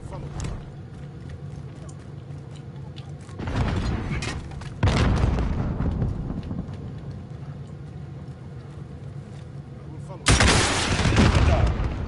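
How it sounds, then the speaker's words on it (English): A cruise missile strike in Call of Duty Modern Warfare: deep rumbling blasts and explosion booms swell over continuous battle noise, with a heavy impact near the start and another loud burst toward the end, a player's voice talking over it. "Cruise missile yeah."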